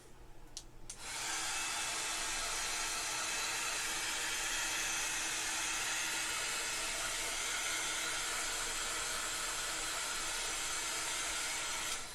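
A hair dryer runs steadily at close range, blowing air to dry something off. It starts with a short click and brief noise, then holds an even, loud whir with no talking.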